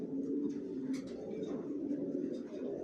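Racer pigeons of a Johnson line coo in a loft, a steady soft murmuring chorus of many birds close by with a few brief higher calls over it.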